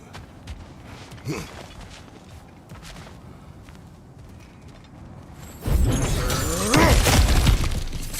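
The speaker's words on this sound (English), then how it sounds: "Ah, back to smashing through things for fun and profit." Cracked ground smashes apart in the God of War Ragnarok video game, a loud shattering crash that breaks in suddenly after quieter footsteps and rumbling, then lingers with crumbling debris.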